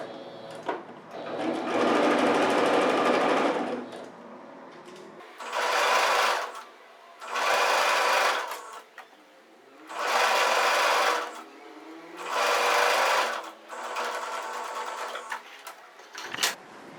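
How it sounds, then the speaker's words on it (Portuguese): Sewing machine stitching a hem band onto a flour-sack dish towel, running in five or six bursts of steady fast whirring separated by short pauses, close and clear with no voices. "vamos passar uma costura unindo o nosso barrado na nossa sacaria"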